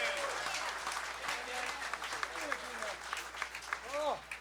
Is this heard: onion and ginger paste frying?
no